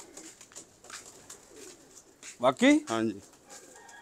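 Pigeons of the tumbling dove type coo in a short close burst of throaty rolling calls midway through, with quieter coos and brief speech around them.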